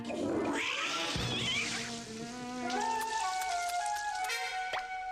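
In Batman: The Enemy Within, a cat gives a drawn-out, wavering meow and caterwaul up close over steady background noise, followed by a few softer tonal cries.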